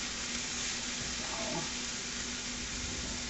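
Mushrooms and ground beef fry in a pan with a steady, even sizzle and a faint background hum, continuous and close throughout.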